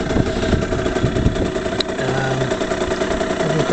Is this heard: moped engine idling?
yes